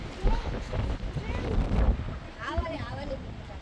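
Strong wind blows across open ground at Arches National Park, buffeting the microphone with low rumbling gusts while people talk over it.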